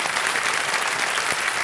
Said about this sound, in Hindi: एक बार जोरदार तालियां बजाने के लिए